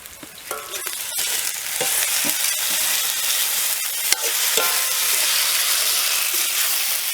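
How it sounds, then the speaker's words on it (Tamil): Onions and tomatoes with ginger-garlic paste sauté in a pan for village-style pepper chicken, giving a steady, loud sizzle and hiss, with occasional sharp scraping stir clicks throughout and no talking. "வெங்காயம் தக்காளி சீக்கிரமா வதங்கிடும்"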